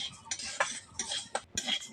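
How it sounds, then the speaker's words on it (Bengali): Light scraping and clinking of a utensil stirring dry grains in a pan, irregular strokes up close with short gaps between them. "এইভাবে সমস্ত চালগুলো আমি ভেজে নেবো"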